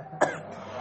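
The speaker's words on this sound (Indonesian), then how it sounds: "Lagi kok batuk ya." A single short cough or throat clear from a man giving an Islamic law lecture, one sharp burst standing out against quiet room tone.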